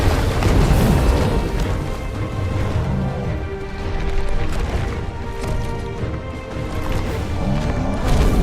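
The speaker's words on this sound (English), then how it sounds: "Clive has learned the ability Brimstone from Titan. Violent explosion." A violent Brimstone explosion ability in the video game Final Fantasy XVI, a sustained, heavy rumbling blast with booming crashes that swell and subside over several seconds.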